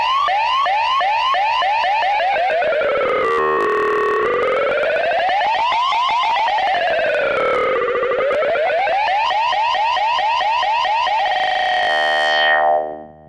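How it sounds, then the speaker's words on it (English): On a Pioneer CDJ-3000, a short looped sample repeats rapidly while its key shifts, so the chirping tones glide up and down in pitch like a warbling siren. It plays loud and constant, then cuts off abruptly at the end. "Now I can pull the platter out, make the loop way shorter, but on top of that, I'm going to do some key shifting at the same time."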